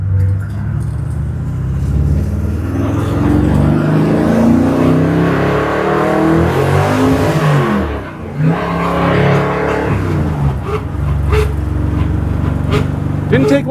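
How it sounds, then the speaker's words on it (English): A 1955 Chevy engine runs at a raised high idle while cold, a loud, close, steady rumble with shifting tones and a brief dip in the middle, while a voice talks over it. "So I idled this thing up because it won't idle when it's cold"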